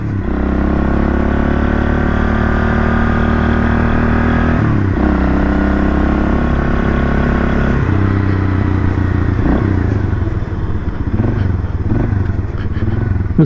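A 1978 Kawasaki KL250 motorcycle with a newly installed carburetor is ridden, its engine droning loudly and steadily close by, dipping as it shifts and revs again.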